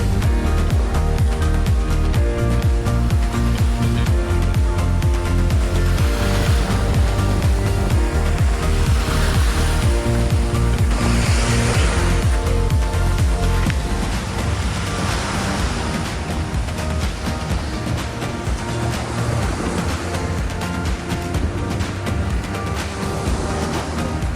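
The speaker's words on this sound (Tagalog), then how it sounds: "Ang lakas ng alon dito." Strong ocean waves crash and roar near rocks in a constant, loud, dense rush that swells and recedes without a break, with no talk heard.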